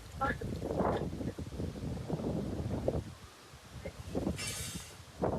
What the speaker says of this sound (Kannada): ಎಷ್ಟು ಗಾಳಿ ಇದೆ, ಸಿಕ್ಕಾಪಟ್ಟೆ ಗಾಳಿ ಇದೆ